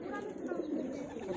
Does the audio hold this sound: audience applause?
no